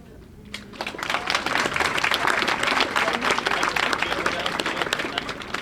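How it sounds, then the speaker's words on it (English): An audience at a tribute show in Rouses Point breaks into a big round of applause after a brief quiet start, steady crowd clapping swelling and holding for several seconds. "join us with a big round of applause for Sylvain"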